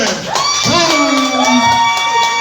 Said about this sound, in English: Start clapping it up right now for Slim